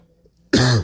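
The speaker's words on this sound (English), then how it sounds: "It's just got me coughing a lot" A single loud, close cough from a man in a dry room, one harsh burst after a moment of near silence.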